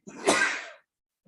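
One short, sharp sneeze breaks the quiet of a city council meeting, a single burst of under a second followed by silence.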